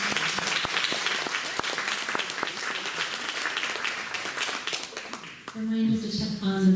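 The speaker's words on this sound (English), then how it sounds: "Round of applause for Hikuforo." Audience applause at a community Day of Remembrance gathering in Fresno, California, a dense wash of clapping across the room that holds for several seconds before a voice begins speaking over its tail.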